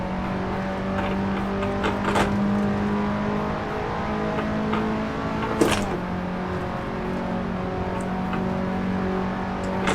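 Steady, high-pitched engine drone from a KTM X-Bow R race car in Assetto Corsa on the Nordschleife, held at constant revs for the whole stretch with a brief sharp blip midway and no talk.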